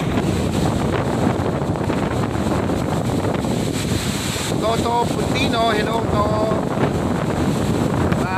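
Strong wind buffets the microphone outdoors in a steady, loud roar, with a voice speaking over it.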